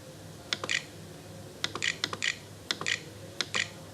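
Bursts of quick, crisp keystrokes on a computer keyboard, several short clusters of clicks separated by pauses, close and fairly quiet with no talking.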